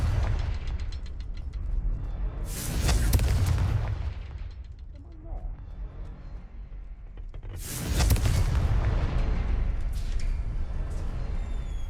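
Confringo blast curses exploding in Hogwarts Legacy, two loud bursts several seconds apart over a constant game rumble, with mechanical clicks and creaks scattered between them.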